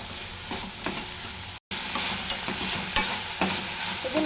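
Cabbage fry is stirred in a sizzling pan, the spatula scraping and tossing in an uneven rhythm over a constant frying hiss, close and fairly loud, broken by a brief silent gap.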